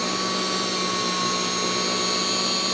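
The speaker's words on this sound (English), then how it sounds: "I'm waiting for this buffer to start to get kind of torquey, where I really have to hold on to it in order to get it to rotate" A rotary buffer polishes a wet-sanded lacquer finish with a loud, steady motor whine and a constant whirring hum. The sound stays close and unbroken from start to finish, with no voices.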